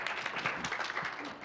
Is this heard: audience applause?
yes